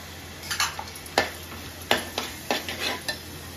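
A spoon stirs Kashmiri masala and Agri Koli masala with turmeric into a fish curry in a pot, giving several distinct scraping clinks at an uneven pace over a faint sizzle.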